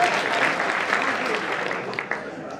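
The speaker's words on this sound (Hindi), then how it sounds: "ताली बजाओ अगर समझ में आ रहा है।" Audience applause at a kavi sammelan poetry gathering at the Kishanpur fair, a dense sustained clapping from a crowd that stays fairly loud throughout and eases slightly toward the end.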